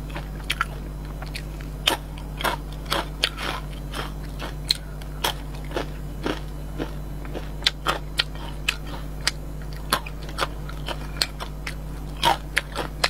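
Crispy pork fat and chicken legs are bitten and chewed close to the microphone, giving repeated sharp crunches and wet chewing at an uneven pace over a steady low hum, with no talking.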